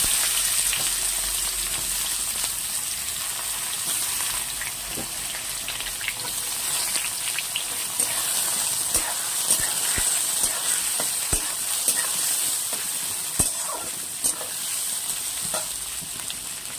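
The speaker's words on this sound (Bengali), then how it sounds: "পেঁয়াজটাকে আমরা একটু ভেজে নেব।" Chopped onions frying in hot oil with cumin seeds and bay leaf in a pan, a continuous close sizzle with scattered clicks and scrapes of stirring throughout.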